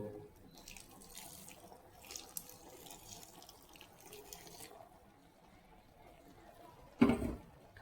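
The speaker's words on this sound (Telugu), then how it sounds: "కొద్దిగా వాటర్ని, మనం రైస్ ఉడికించిన వాటర్ ఉంది కదా, అది కొంచెం వేసుకుందాం ఇందులో." Rice-cooking water runs steadily into a pot of chicken biryani for several seconds, a soft continuous trickle, ending with a brief louder splash and clatter near the end.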